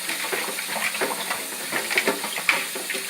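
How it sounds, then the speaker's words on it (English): Running tap water rinses beef feet in a kitchen, a continuous hissing splash with small shifting gurgles and a brief knock near the end, close and moderately loud. "I'm gonna get fresh water and I'm gonna rinse it again."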